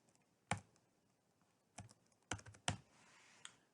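Keys tapped on a computer keyboard to enter a serial number for a 980H machine: a few separate clicks and short bursts spread across the stretch, quiet and close, with no talking.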